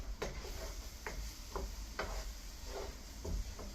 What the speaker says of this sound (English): You also want to add in your 3 tablespoons of flour. Quickly stir that in there.